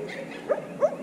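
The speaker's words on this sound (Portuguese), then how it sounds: "O cachorro tá latindo pra nós." A dog gives two short barks, moderately distant and fairly faint, over a low steady background hum.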